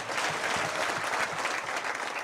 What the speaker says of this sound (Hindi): एक बार ताली बजा दो भाई।